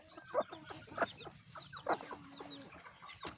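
Young chicks, about four days old, in a brooder, cheeping and clucking in short repeated bursts close by, with soft peeps between the louder calls.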